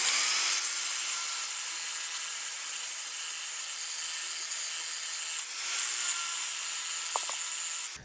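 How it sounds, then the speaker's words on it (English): A 15-amp angle grinder with a 9-inch disc grinds a spindle on a 1950s mobile home axle, making a loud, continuous abrasive roar with a steady high whine, close by, with no talking. "I've got a 9-inch disc on a 15-amp grinder"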